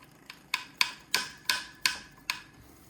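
A knocker taps on a Turin CF64V single-dose coffee grinder, giving about seven sharp, close metallic knocks at a quick, slightly uneven rhythm with short ringing decays.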